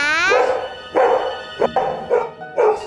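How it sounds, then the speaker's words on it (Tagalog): Ginger the dog gives a string of about five bright, yelping barks at close range, each short and spaced by brief pauses, with one whiny, drawn-out opening bark. "Ginger, di ba good dog ka?"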